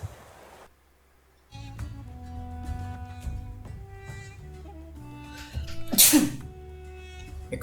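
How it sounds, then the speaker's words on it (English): A single sharp human sneeze bursts out loud and close partway through, over a bed of game music. "I've been holding that sneeze in for quite some time actually."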